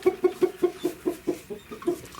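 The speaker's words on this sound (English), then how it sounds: "I sure do like chickens." Chickens in a coop at bedtime clucking in a steady rhythm, about ten short clucks in quick succession, close by and fairly quiet.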